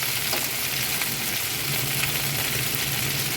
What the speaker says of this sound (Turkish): Tavuğumun altını bu şekilde çevire çevire güzelce kızarttım.